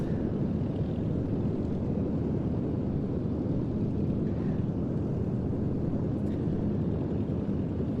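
A P-47 fighter flying at a Duxford air show, a continuous broad engine roar, steady and fairly loud, with a slight rushing wind texture and no gaps.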